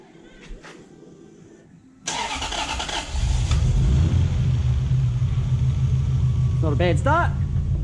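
A Toyota Hilux ute with a 1UZ engine swap cranks and fires up, catching at once and settling into a loud, steady rumbling idle, with a couple of brief squeaks near the end.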